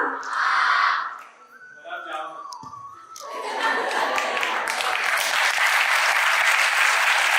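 A voice speaks first, then audience applause at a Krishna Lila drama for Janmashtami breaks out halfway through and holds as dense, steady clapping from a large crowd.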